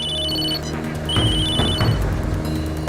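A telephone rings in repeated bell bursts, loud and close, with no talk over it.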